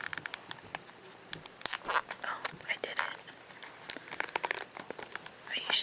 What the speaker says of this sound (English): to use my scissors to cut open the clear plastic wrap, but I guess my nails could do it too.